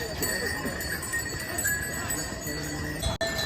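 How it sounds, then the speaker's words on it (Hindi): Bells on pack horses jingle steadily along the Kedarnath trail from Gaurikund, mixed with hoof clip-clops and the general bustle of the path, with voices chatting in the background throughout. "बेल्स की आवाज़ सुनिए।"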